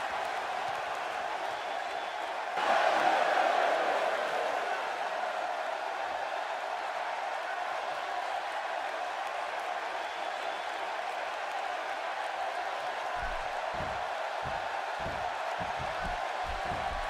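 A wrestling arena crowd in WWE 2K16 reacts to Bret Hart's entrance: a sudden swell of cheering and applause that fades into a sustained distant crowd roar, with low thumps near the end.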